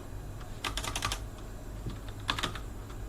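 A computer keyboard is typed on for a shell command, with two short bursts of quick, close key clicks separated by a pause and no speech.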